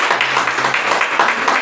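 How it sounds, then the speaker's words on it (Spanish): A church congregation claps together in steady, dense applause at close range, with no talk over it. "¿Cuántos pueden dar un fuerte aplauso a Dios?"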